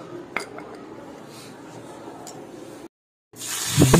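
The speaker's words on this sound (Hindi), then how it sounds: "take a tadka pan add some oil on it" Metal cookware clinks and scrapes, then a hot tadka pan with oil crackles and sizzles loudly after a brief silence.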